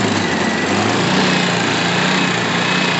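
A Baja 700/900-watt propane inverter generator, fed from a tank, runs steadily with a close, loud, high-pitched engine drone that holds an even level throughout, with no talking.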